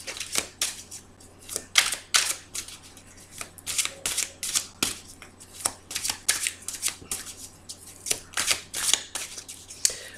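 Tarot cards are cut, shuffled and drawn from the deck in a rapid series of crisp riffling snaps and slaps, close and fairly loud, repeating in irregular bursts over a low steady hum with no talking.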